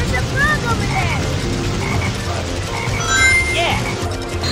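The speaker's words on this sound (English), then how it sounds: "Look! There's a frog over there!" A cartoonish frog croak from the Sonic Heroes video game on PC, in the Rail Canyon stage, sounding a few short chirpy calls amid busy game music, effects and character voice shouts.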